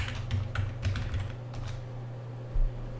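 A password being typed on a computer keyboard: a quick burst of close key clicks that thins out into a few scattered taps, quiet and without talk.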